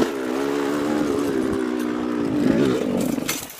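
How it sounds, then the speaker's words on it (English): A dirt bike engine revving while being ridden, a loud buzzing two-stroke-like drone held at steady high revs, rising slightly before dropping off near the end, close to the microphone. "That's how you ride a dirt bike."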